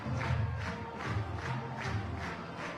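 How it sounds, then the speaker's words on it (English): A softball crowd roars after a run-scoring single, with rhythmic rising-and-falling chanting cheers pulsing about twice a second, moderately loud and slightly distant, without speech. "This crowd is up and at 'em."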